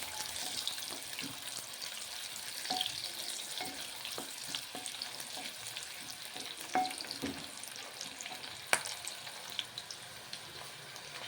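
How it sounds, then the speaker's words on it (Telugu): Onions sizzle and fry steadily in hot oil for a chicken masala curry, with occasional stirring clicks and scrapes over a continuous crackling hiss, fairly quiet and with no voices. "ఉల్లిగడ్డలు మంచిగా వేగాల నూనెలా"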